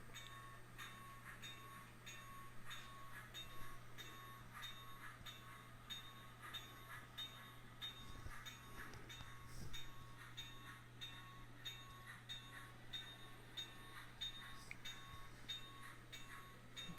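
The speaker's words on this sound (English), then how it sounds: "It's a 9-car train headed west." A nine-car model train of the Super Chief rolls steadily along a layout track with a continuous rhythmic clatter and faint metallic clinks, no voices.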